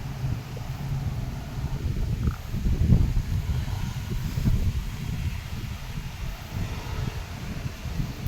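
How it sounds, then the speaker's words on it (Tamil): Strong wind gusts through an outdoor garden, buffeting the microphone with a low, rumbling roar that swells and eases unevenly, with no voices present. "காற்று நல்லா அடிக்குது"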